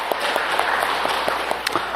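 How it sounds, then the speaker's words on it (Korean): A church congregation claps during a Sunday service, with sparse distinct hand claps standing out over a dense washy room sound, fairly close and brief. "영광의 박수를 주님께 돌리십시다"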